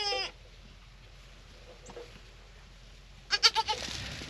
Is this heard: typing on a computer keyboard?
no